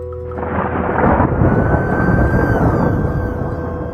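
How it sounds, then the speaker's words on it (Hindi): Thunder rumbles and crashes outside during a stormy night, a loud sustained roll building after a sharp onset and holding for several seconds with faint rain beneath. "बाहर बिजली कड़कती है।"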